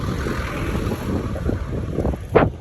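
Strong wind buffets the microphone on a boat ride home across the water, gusty rumbling roar with waves and a sharper slap near the end, fairly loud and close, no voices.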